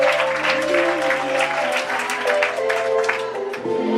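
A church congregation breaks into applause acclaiming the Holy Spirit, a sustained wash of many clapping hands with a musical tone and a voice in the background.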